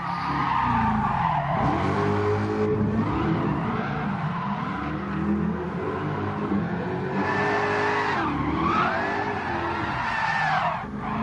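A car drifts through the left-hand kinks at Tsukuba in Gran Turismo Sport, engine revving loudly as the tyres squeal in long sweeping slides that rise and fall continuously, close and alone throughout.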